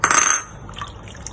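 Baking soda water splashes briefly into a bowl of raw pork ribs, a short close gush of liquid that fades after under half a second into faint wet trickling.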